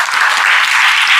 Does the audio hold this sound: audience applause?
yes